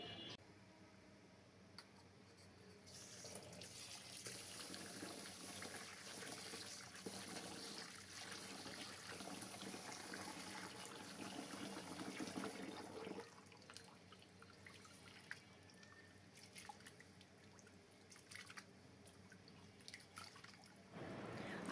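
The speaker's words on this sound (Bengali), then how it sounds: "এই চালগুলোকে ভালোভাবে ধুয়ে নেব আর বেছে নেব।" Rice, sun-dried atap grains, washed by hand in water in a home kitchen, a steady wet swishing and dripping with trickles, moderately close, no talking.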